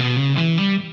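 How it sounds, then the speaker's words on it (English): A distorted electric guitar plays a short four-note minor seventh flat five arpeggio, each note ringing into the next, bright and sustained, with no voices. "It sounds very impressive music theory-wise because it's a minor 7 flat 5 arpeggio"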